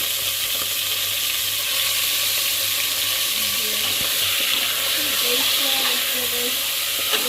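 Mutton goes into a hot pan for gravy, setting off a steady, loud hissing sizzle that holds for several seconds under soft, faint background sounds.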